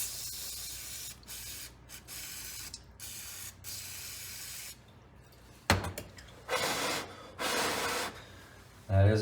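Brake cleaner sprayed onto the idle circuit of a Honda pressure washer carburetor, heard as several short aerosol hisses of varying length, a few weak bursts early then louder ones later, with light mechanical handling between.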